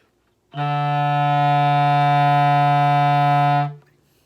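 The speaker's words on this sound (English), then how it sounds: "That's the lowest note that you can play on most clarinets." A single sustained low clarinet note, low E, the instrument's lowest, steady and rich in harmonics, held for about three seconds with no other sounds around it.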